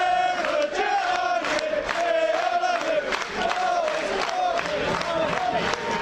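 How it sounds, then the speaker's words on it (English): Football crowd at a Hereford v Kidderminster Harriers match, with applause and cheering rising from all four sides of the ground, a loud, continuous roar of spectators and voices mixed in throughout. "All four sides of the ground applauding now."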